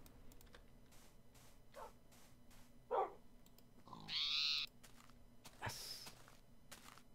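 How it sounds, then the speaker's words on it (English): A dog or wolf in the Minecraft Tekkit modded game gives a few short, separate barks and yips, fairly clear against a quiet background with faint footsteps and clicking. "Oh, there's a wee dog."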